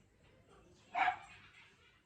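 A single short bark from a household dog indoors, slightly distant and moderate in level, against a quiet room.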